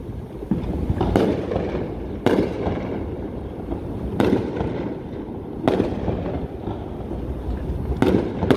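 Fireworks going off during a Fourth of July night in Miami, Florida, with repeated booming bursts every couple of seconds over a steady rumbling crackle of distant explosions.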